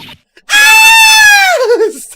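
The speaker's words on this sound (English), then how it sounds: "Stop screaming!" Character screaming in the Ace Attorney 3 video game, a loud sustained high-pitched shriek that bends downward and wavers at the end, following a brief quiet moment.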